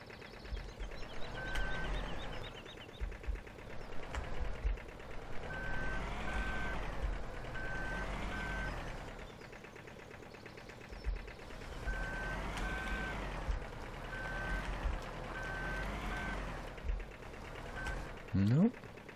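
A truck in the Farming Simulator 17 video game sounds repeated reversing beeps in evenly spaced bursts over a low engine drone, with a person talking intermittently.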